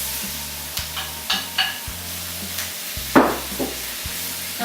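Shallots sizzling in butter in a preheated pan, with a steady frying hiss under repeated clacks of a utensil stirring and scraping, close and fairly loud.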